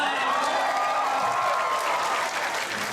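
A comedy-show audience at an anime convention claps loudly and steadily, with dense sustained applause and some crowd noise filling the whole stretch.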